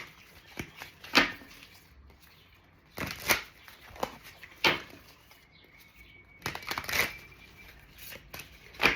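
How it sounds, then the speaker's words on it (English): A deck of tarot cards is shuffled in several quick riffling bursts, crisp papery flutters spaced a second or two apart, close and fairly quiet, with no talking. "we're gonna shuffle these up"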